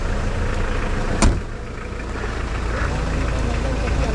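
A diesel engine runs at a steady idle, giving a loud low rumble throughout with one brief sharp knock partway in.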